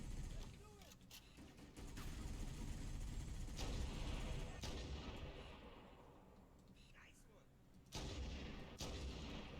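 Gunfire in the Halo video game: a few sharp shots and heavy booms over a dense, loud battle din, with a voice talking in between.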